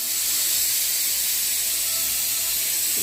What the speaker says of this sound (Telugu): ఆవిరి